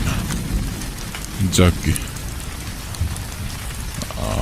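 Heavy rain pours steadily on a stormy night in a Bengali horror cartoon, a dense close patter, with a brief spoken word and a short tonal effect partway through.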